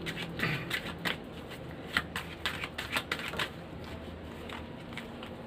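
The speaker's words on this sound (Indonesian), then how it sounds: "Saya akan mengambil kartu lagi." Lenormand cards are handled and drawn by hand, giving a run of soft papery flicks and snaps at an irregular rhythm, close and fairly quiet and fading toward the end, with no talking.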